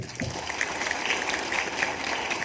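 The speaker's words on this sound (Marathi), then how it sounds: "स्वतःसाठी टाळ्या वाजवा जोरात" Students at a career lecture clap together, a brisk dense round of applause from a room full of people, steady and fairly loud for the whole stretch.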